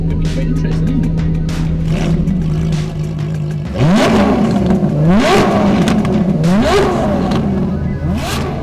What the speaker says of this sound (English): It's going to be my first launch in a 918